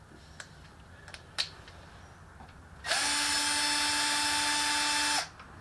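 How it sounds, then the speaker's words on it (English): A power drill whirs steadily at high speed for about two seconds, then stops, preceded by a few sharp clicks and taps, during a rebuild of a Hi Blow HP80 septic system air pump. "I don't recommend you use a drill."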